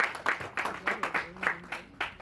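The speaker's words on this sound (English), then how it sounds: "Another resounding round of applause," Applause from an audience at a public speaking contest, in bursts of clapping that rise and fade roughly every half second, moderately loud and steady over the short stretch.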